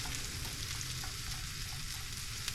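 Food fries in a pan on a hot RV stove with a steady, dense sizzle that stays constant and close with no talking.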